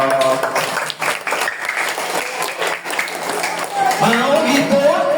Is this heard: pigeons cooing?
no